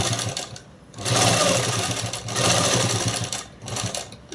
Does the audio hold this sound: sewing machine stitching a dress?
yes